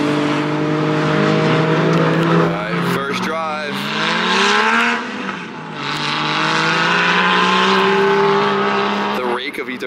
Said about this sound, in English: I'd like to do some donuts at first just to feel the car out